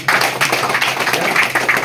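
Protesting union members break into dense, continuous applause, many hands clapping together in a loud crowd at an outdoor protest rally.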